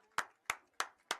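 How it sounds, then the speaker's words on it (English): After a girls high school soccer game, spectators applaud the winning Ellenville team. Four crisp, evenly spaced claps sound close and fairly quiet, with no voices. "As we give a nice final round of applause here to the victorious Ellenville Blue Devils."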